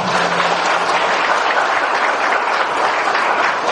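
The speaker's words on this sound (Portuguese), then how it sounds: "Uma salva de palmas para nossa irmã." A short, loud burst of steady applause from an audience at a lecture and workshop, thick and continuous without any pause.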